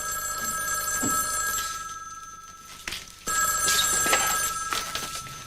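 A telephone rings loudly nearby in repeated electronic bursts with short gaps between them, and faint movement can be heard between the rings.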